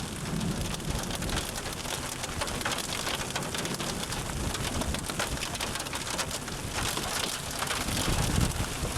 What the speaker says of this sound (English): we're close to the heart of the storm